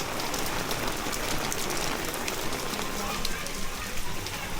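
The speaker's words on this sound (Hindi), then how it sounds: "आज सुबह 8 बजे से ही बारिश चल रही है" Heavy rain pours down steadily during flooding in Mirpurkhas, Pakistan, a dense even hiss with scattered droplet patter, no pauses.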